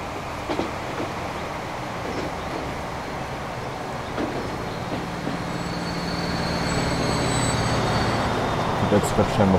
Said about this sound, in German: Schauen wir uns nochmal die beiden Züge an, wie sie vorbeifahren